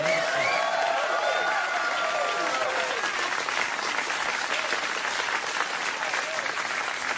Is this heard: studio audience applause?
yes